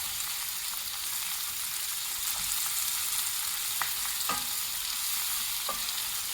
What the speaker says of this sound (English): you're going to saute it until it's nice and soft